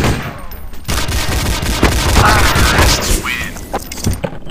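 Rapid bursts of gunfire from a selectable-fire pistol in Counter-Strike: Source, loud and close, with crackling repeated shots over several seconds and voices faintly beneath.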